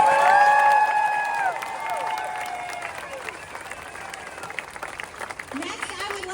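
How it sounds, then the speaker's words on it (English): Audience applause and cheering at a political rally for democracy in Austin, loud at first and thinning out, with whistles and shouts over the clapping and a voice talking through it. "Can we give him a round of applause?"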